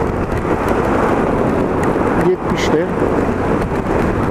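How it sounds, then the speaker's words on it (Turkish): Heavy rain and gusting storm wind roar over a motorcycle ridden at night, a dense continuous wash of noise with a brief dip midway, and a rider's voice briefly speaking under it. "Yağmur da şiddetlendi."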